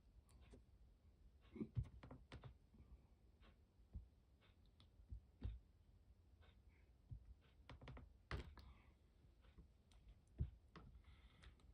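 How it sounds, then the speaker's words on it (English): Quiet keyboard typing in irregular bursts of clicks and keystrokes, fairly faint and steady with brief pauses, no speech over it. "I can still hear Dixon's typing"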